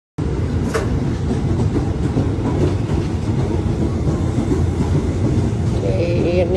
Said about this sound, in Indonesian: Favorit gue naik kereta